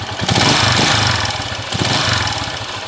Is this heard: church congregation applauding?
no